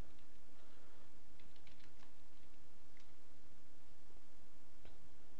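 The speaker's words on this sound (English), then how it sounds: "we're going to do is type in computer maintenance" Someone types a search query on a computer keyboard. The key clicks are faint and scattered over a steady background hum, and no one speaks.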